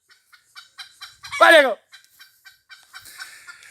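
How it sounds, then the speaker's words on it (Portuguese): A large rooster crows once at close range on a farm, a loud rising-and-falling call that stands out from quieter clucking; someone speaks briefly around it. "Ó o galo cantando lá também."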